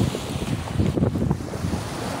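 Sea waves washing at a beach with clear water and boats nearby, a soft continuous surf wash with gentle surges, moderately distant and steady, with no voices.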